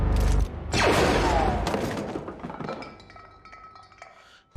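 Blaster gunshots fire in a scene from The Mandalorian: a loud burst of sharp impacts opens, then metallic clinks and mechanical rattles trail off into quieter ringing.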